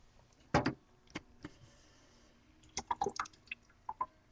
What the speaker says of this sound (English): Add a tiny bit of water.